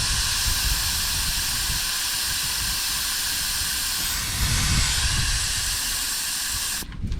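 Air hisses out of a Splendor motorbike tyre as it is let down to about 20% pressure, a steady, loud, close-up rush that carries on unbroken for several seconds with no voices.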